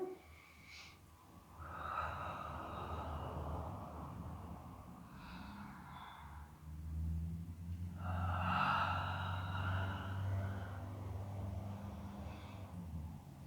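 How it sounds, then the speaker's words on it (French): Slow, deliberate breaths during a beginner Pilates exercise on a mat, one long inhale and exhale after another, soft and close with an airy rush on each breath and no speech. "Vous inspirez en descendant, vous expirez en montant."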